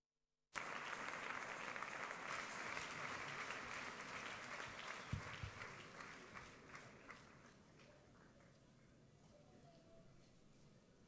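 A church congregation bursts into sustained applause that starts abruptly, stays dense and loud, then gradually thins and fades toward the end.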